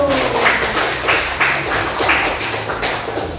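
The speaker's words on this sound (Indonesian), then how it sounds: "kita berikan tepuk tangan untuk kelompok 1" Students in a classroom clap for group 1 after its presentation, a loud, steady patter of many hands with faint voices underneath.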